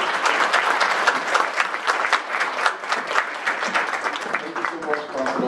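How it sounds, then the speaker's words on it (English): Sustained applause from an audience at a leadership program graduation ceremony, steady and fairly loud with dense overlapping claps and a faint voice near the end. "A round of applause for all."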